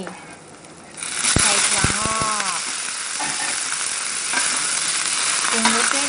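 Garlic and black pepper fry with crisp fried shellfish in a pan, sizzling loudly after a quiet start, with clattering stirs and someone talking over the cooking.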